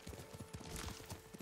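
Rapid hoof clip-clops of a galloping horse in the samurai video game Ghost of Tsushima, a quick steady rhythm of soft thuds, fairly close but quiet.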